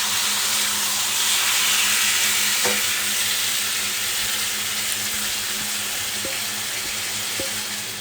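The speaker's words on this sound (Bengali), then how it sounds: "আমি ধরো চিকেনটা রান্না করব ম্যারিনেট করা চিকেনটা দিয়ে দেবো" Marinated chicken frying in a pan for kasundi chicken, a loud, steady sizzle throughout with a few faint clinks of stirring, no voices.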